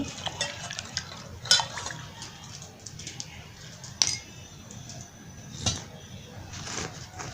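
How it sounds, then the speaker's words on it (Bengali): A spoon stirs turmeric powder and soap powder into a container of water, producing soft scraping and a few sharp clinks against the vessel, close and fairly quiet. "আমি পানের ভিতরে হলুদ গুঁড়া এবং সাবানের গুঁড়ো দুটোই দিয়ে দিয়েছি আমি একটু গুলে নিচ্ছি"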